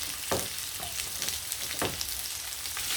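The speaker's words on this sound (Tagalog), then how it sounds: "Saute for 1 minute or two." Ginger and onion sizzle steadily in a hot pan, with a constant frying hiss broken by a few sharp stirring scrapes.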